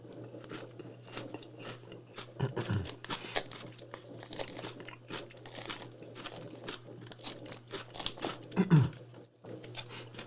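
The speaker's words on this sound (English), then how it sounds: "I guess you guys are hearing crunchy." Close-up crunching and chewing of food, irregular bites and crinkly munching sounds near the microphone, with a low steady hum beneath.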